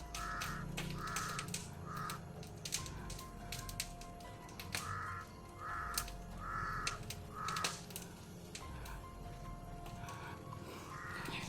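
A crow caws repeatedly in short bursts of two or three harsh calls, fairly close, over steady outdoor background noise.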